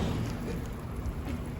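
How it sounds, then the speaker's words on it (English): Heavy rain pours down outdoors, a soft, continuous hiss of drops with a faint low rumble, steady and fairly quiet throughout. "Unfortunately, it is like pouring rain outside."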